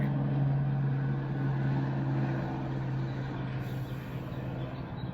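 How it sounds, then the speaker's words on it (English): A helicopter flies overhead, heard as a low, steady droning hum that stays fairly distant and fades slightly toward the end. "now there's a helicopter"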